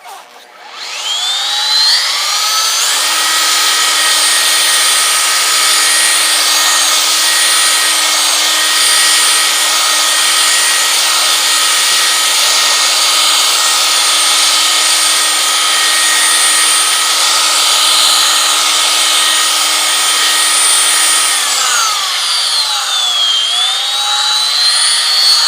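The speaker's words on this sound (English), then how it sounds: "You can get it onto the paint and finish up the job." A car polisher buffing black paint, with a loud steady motor whine that spins up, holds evenly for about twenty seconds, then winds down, close and alone.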